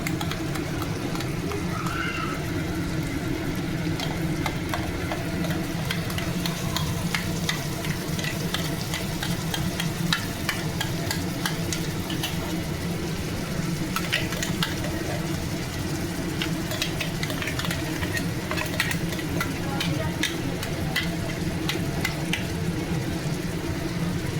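Tomato and onion paste is stirred into mutton frying in a pan, with a continuous sizzle and repeated scraping and stirring clicks close by, steady for a long stretch with no talk.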